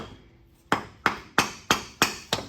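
A series of six sharp hammer strikes on a Dana 44 flanged offset rear axle of a flat-fender Jeep, spaced fairly evenly and ringing briefly, close and loud after a quiet start.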